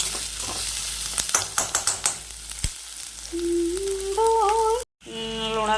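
Food fries in a pan on a home stove, with a steady sizzle and a run of scraping stirs, followed by a sustained tonal whine as the frying carries on.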